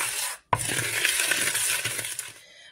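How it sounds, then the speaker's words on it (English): Cake doughnut batter being stirred in a bowl, a close, steady scraping and clinking of a spoon against the bowl after a brief pause, fading out at the end with no talk. "Stir that together."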